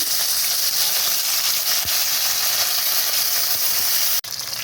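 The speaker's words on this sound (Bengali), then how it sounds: "এইভাবে মাছগুলো সব ভেজে নেবো" Pieces of pond-caught tilapia fry in hot oil, giving a loud, steady, close hiss and sizzle throughout with no talking.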